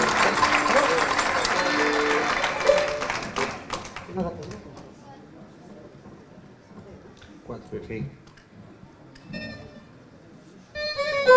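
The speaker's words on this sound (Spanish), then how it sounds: "Así que por ella, un aplauso." Audience at a children's and youth folklore festival applauding loudly for about four seconds, then the clapping fades into murmuring crowd noise and stray sounds, with a brief musical bit and voices near the end.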